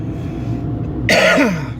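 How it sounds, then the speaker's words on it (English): A single harsh cough bursts out over steady low road rumble, close to the microphone, followed by a rough throaty rasp. "Still got a bit of a cough, as you can tell."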